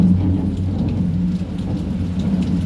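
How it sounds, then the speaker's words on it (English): Heavy rain falls steadily and loudly close by, a dense continuous wash with a low rumbling undertone and no voices. "rain is falling heavily here"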